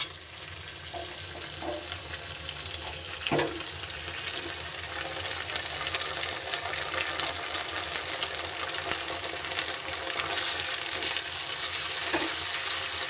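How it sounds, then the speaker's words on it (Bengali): Spice masala for muri ghonto sautés in a pan with added water, making a continuous, fairly loud bubbling sizzle that holds steady throughout with an occasional clink. "ভালো করে মশলাটাকে কষিয়ে নেব তারপরে জল দেব জলে ভালো করে কষিয়ে নিই মশলাটা"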